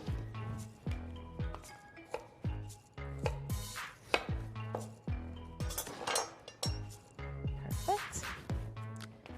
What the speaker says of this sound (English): So what you want is cutting it on the bias, which basically means on the side, kind of angled